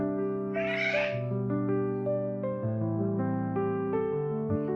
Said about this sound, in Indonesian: Pagi-pagi ada kucing berantem.